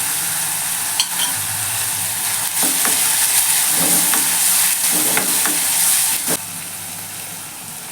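Onion and fennel powder frying in a pan for mutton kothu kari, a steady loud sizzle and hiss throughout with occasional stirring scrapes and clicks.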